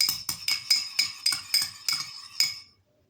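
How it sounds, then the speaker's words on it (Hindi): Spoon clinking against a bowl while apple cider vinegar mixture is stirred, about ten quick bright metallic taps in a steady rhythm, close and alone. "अब हम इसको भी अच्छी तरह से मिक्स कर लेंगे"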